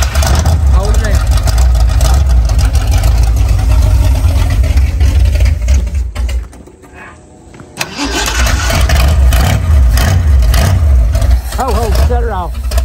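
An old, long-unused Ford Bronco engine runs with gas in the carburetor, a loud, rough, continuous mechanical roar that dips briefly midway before surging back, with people talking over it.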